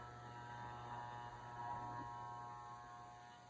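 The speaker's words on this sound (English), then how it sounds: "Use an inverted clipper technique to clean up around the ears." Electric hair clippers trim around the ears with an inverted technique, giving a steady, fairly quiet mechanical buzz with a low hum that holds evenly throughout.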